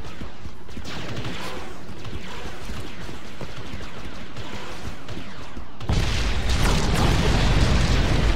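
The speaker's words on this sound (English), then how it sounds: "Orbital strike salvo." A salvo of orbital strike explosions in Star Wars Battlefront on Mos Eisley gives a dense rumbling barrage that grows into a heavier, louder burst near the end.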